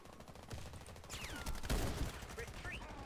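Truvelo CMS 20x42mm rifle fire in the video game Warface, a few sharp heavy shots with in-game effects and a muffled voice underneath.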